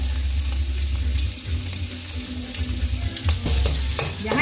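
Garlic fries in oil over low heat, a steady close sizzle with occasional stirring scrapes and clinks, running throughout without talk.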